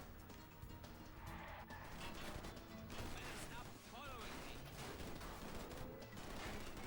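Dense, continuous video game gunfire with crashing impacts and bursts of shots, loud and busy throughout, with a voice talking over it.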